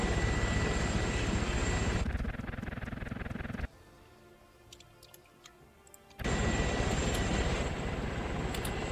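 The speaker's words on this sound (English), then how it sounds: "So the Apache is taking off." AH-64 Apache helicopter lifting off in Arma 3, a steady loud rotor and engine drone that drops away to a quieter stretch midway, then returns at full strength.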